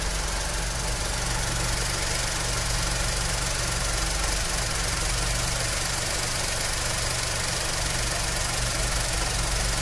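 A Skoda Fabia with an overheating problem idles while its automatic radiator fan runs, making a steady close-up hum and whir with a faint rhythmic engine knock and no speech.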